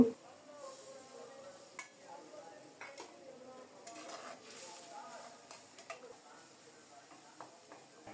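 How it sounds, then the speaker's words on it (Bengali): Spoon scraping and stirring spice paste with tomato in a pan with a soft sizzle underneath, with occasional clinks of utensil against metal, close by and fairly quiet. "মশলাটাকে নেড়ে চেড়ে খুব সুন্দর মতো কষিয়ে নিলাম।"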